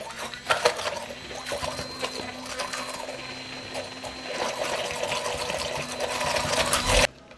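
A blender whirs steadily, mixing a garlic, vinegar and olive oil condiment, a dense buzzing churn lasting several seconds before it cuts off abruptly at the end, with no talking.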